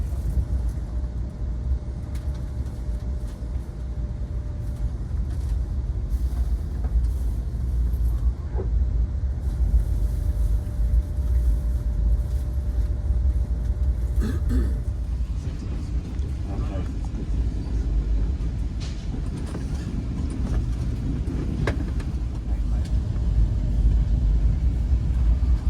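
A steady low rumble and hum fill the business class cabin of an Amtrak Acela high-speed train running from New York City to Boston, continuous and close throughout, with faint clatter and a brief tone early on.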